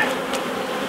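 A close, unbroken drone of honey bees at an open beehive in the UK, thick and even, with nothing else over it.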